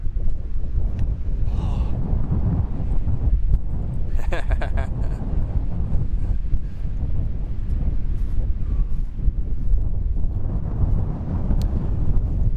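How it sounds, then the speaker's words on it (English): Strong wind buffets the microphone outdoors in a rocky provincial park wilderness, a constant loud low rumble for the whole stretch, with occasional rustling and brief clattering bursts. "A little windy."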